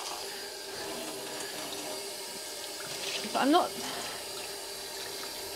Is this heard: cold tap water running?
yes